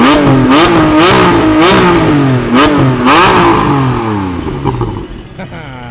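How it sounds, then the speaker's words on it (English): A Nissan GT-R engine revs up in several sharp, rising blips close by, each climbing in pitch before dropping back, then easing off toward the end. "give us a few revs"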